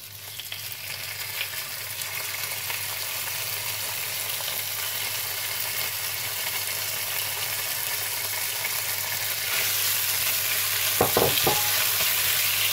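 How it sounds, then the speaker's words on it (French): Beef sautés in a hot pan with oil, giving a steady, dense sizzle and hiss throughout with a few brief stirring clatters near the end and no voices. "Donc juste attends la poêle chauffée pour mettre le bœuf dedans."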